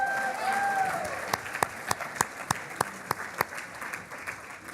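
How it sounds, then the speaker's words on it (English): Audience applause at a university information challenge awards ceremony, a dense wash of clapping that thins into scattered individual claps, with a few voices and faint cheers mixed in early on. "Some applause for that."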